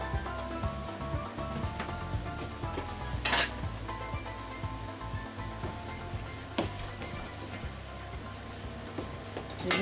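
Minced pork and mixed vegetables fry in a pan with a steady, soft sizzle, while a utensil stirs and scrapes against the pan and occasionally clinks sharply.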